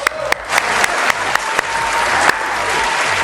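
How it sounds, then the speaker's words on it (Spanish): Studio audience applauding on a television show, loud and close, with several sharp individual claps standing out over the continuous clapping, brief and energetic. "Un aplauso, por favor."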